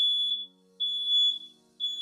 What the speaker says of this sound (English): All right, so smoke alarms are going off.